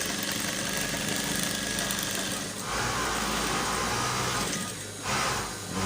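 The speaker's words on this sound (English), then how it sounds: "so I will stitch all the way up" Sewing machine running steadily while stitching a waistcoat jacket, a continuous close motor whir with brief slowdowns near the middle and end, no talking.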